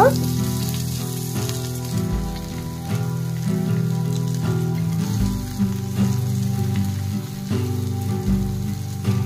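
Sunsunia saag greens sizzle and fry in a hot pan, a steady crackling hiss running throughout with low tonal background underneath.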